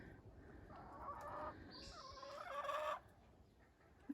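Hens cluck softly inside a farm coop, a few faint murmuring calls rising and fading over a quiet background with no talking.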